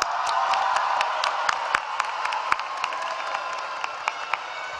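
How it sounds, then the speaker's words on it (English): A crowd applauds at a high school graduation ceremony in Dallas, broad clapping mixed with scattered cheers and whoops, with sharp individual claps popping out near the front. "Let's take time out to give those people a round of applause."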